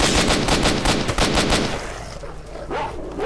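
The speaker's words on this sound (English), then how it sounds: "See, I gave you the warning shot" Gunfire in the shooter game S.T.A.L.K.E.R.: Shadow of Chernobyl, a rapid, loud burst of repeated automatic shots for about a second and a half, then a quieter tail with faint distant sounds.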